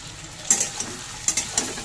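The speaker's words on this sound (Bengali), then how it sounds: "সবজিগুলো মেরে দু তিন মিনিট মতন একটু ঘেঁটে নেব" Potato, eggplant and pointed gourd pieces with salt being stirred in a hot pan, a soft steady sizzle broken by a few sharp scraping clinks of the spoon.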